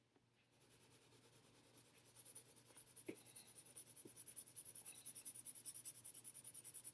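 A B pencil shades on paper for a value scale, making a soft, close, rhythmic rubbing that scratches steadily back and forth, faint but continuous.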